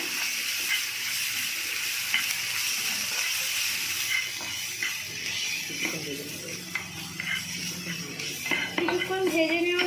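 Ginger garlic paste with cumin, coriander, turmeric, chilli powder and salt frying in a pan for bread pakora, a steady close hiss and sizzle with occasional stirring scrapes, while a voice talks over it.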